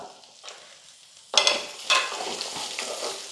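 Peanuts and small pieces of coconut sautéing in hot oil, a quiet start then a sudden loud sizzle as they are stirred, with a second burst of crackling and scraping that settles into a steady fry, close by.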